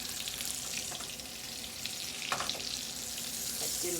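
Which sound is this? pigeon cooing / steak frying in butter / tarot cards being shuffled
steak frying in butter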